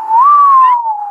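A voice imitates a draft whistling as it escapes under a door: one steady, loud, close whistle-like tone rising slightly then slowly falling, lasting about a second.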